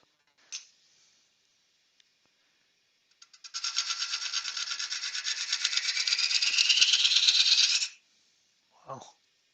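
A light cut on a spinning wood lathe shapes an inlaid lidded box. It makes a close, even, buzzing scrape that lasts about four seconds, with brief knocks before and after.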